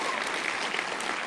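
Brief burst of audience applause at a TV festival panel for a fantasy drama series, dense steady clapping from a large crowd, loud and uninterrupted.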